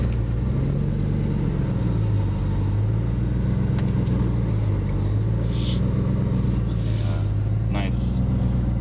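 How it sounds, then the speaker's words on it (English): A Ford Taurus SHO engine runs at a low, steady idle with a deep rumble close by, and faint clicks and light taps come from the cabin. "let me go ahead and start the car, let you hear it."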